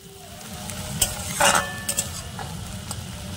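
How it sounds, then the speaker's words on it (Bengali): Chopped green chillies and onion frying in hot oil while being stirred, with a steady sizzle and a few brief clinks of a spoon against the pan. "আর দিচ্ছি 2 কাঁচা লঙ্কা কুচি"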